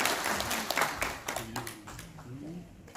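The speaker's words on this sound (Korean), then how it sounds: "박수를 한번 부탁드립니다" A forum audience gives a round of applause that starts full and gradually thins and fades, with voices talking over the clapping.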